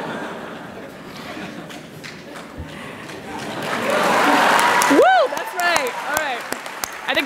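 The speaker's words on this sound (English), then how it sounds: "Can we clap for that?" Commencement audience at the 2016 Ford School ceremony claps, a swelling round of applause that builds to its loudest midway and then drops off abruptly, with scattered voices and a whoop mixed in.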